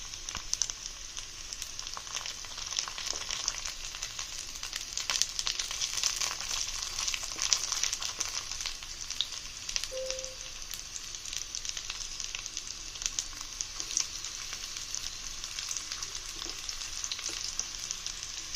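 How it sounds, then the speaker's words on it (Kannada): Chicken sausages fry in a pan, turned one by one, with a constant hissing sizzle and scattered crackles at a moderate, steady level. "ಫ್ರೈ ಆಗ್ತಾ ಇದೆ, ಒಂದು ಸೈಡ್ ಫ್ರೈ ಆಗಿದೆ"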